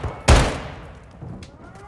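A single sharp gunshot cracks loudly in Call of Duty Modern Warfare 3, its echo decaying over the following second amid quiet game ambience.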